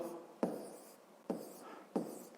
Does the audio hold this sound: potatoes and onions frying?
no